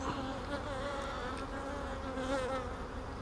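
Honeybees buzz steadily at an opened hive, a dense, continuous drone close by with no talking.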